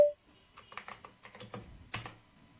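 A computer keyboard clatters as a terminal command is typed, a run of quick, irregular key taps close by, ending in a firmer keystroke, with no talk over it.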